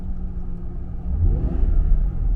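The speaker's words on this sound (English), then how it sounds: "Now that is a little bit more of that supercharger sound I was looking for." A supercharged Jaguar XJR engine fitted with a Mina Gallery intake idles with a low rumble, then revs up and holds higher, loud and close, with no talking.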